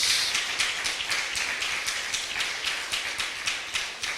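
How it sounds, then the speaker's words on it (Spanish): Church congregation clapping in a steady, even rhythm, roughly three claps a second, moderately close and filling the room, with no talk over it. "Denle un fuerte aplauso a nuestro Señor, hermano."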